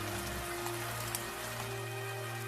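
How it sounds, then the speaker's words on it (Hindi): Heavy downpour in a narrated village story, a dense continuous hiss of rain with a steady low hum beneath, loud and unbroken throughout. "कड़कती बिजली के साथ साथ मूसलाधार बारिश भी शुरू हो गई।"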